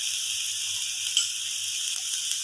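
Onions softening lightly in a pan for a chicken and egg mayo sandwich, giving a steady, fairly quiet broadband sizzle throughout with a faint low hum beneath and no talk.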